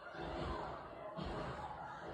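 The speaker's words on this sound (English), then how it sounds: "Sorry about the TV in the background." A television plays in the background of a room, a steady mix of muffled voices and chatter with a brief thump near the middle, all continuous and fairly faint.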